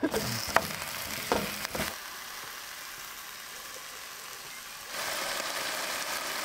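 Sausages fry in a pan inside a cheap camper van conversion, a steady, fairly quiet sizzle after a few clattering knocks of handling at the start, swelling slightly louder near the end.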